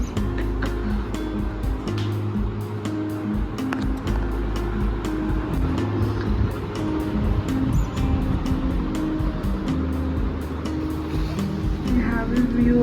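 Street traffic below a room in Kolkata: a continuous loud rumble of passing vehicles and engines with scattered sharp clicks and clatter, steady throughout.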